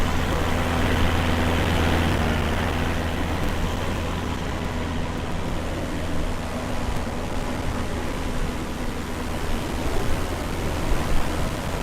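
Steady broadband wind rush inside a Cessna 172 cockpit cruising at 10,000 feet in Microsoft Flight Simulator 2020, with a constant low engine drone beneath it; loud, unbroken and even throughout, with no talk.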